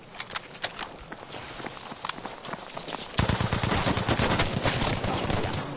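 Footsteps in the Battlefield V Firestorm video game, rapid crunching steps mixed with distant gunfire, growing louder and denser partway through.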